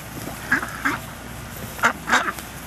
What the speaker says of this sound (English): Here, go feed these ducks.